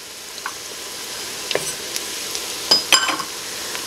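Onions soften in a pan as a cup of celery goes in, giving a low steady sizzle with scattered spoon scrapes and a louder clatter of stirring near the end, with no talking.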